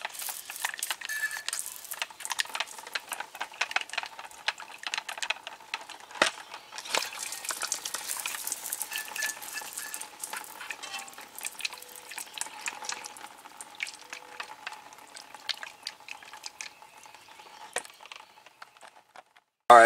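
A water sprayer rinses brake calipers and rotors still mounted on a car, giving a continuous close-up hiss and splatter with small drips and rattles and no talking.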